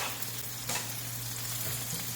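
Onion, capsicum and chili frying in hot oil in a pan for a breakfast dish, giving a steady, close sizzle with faint stirring scrapes and no talk.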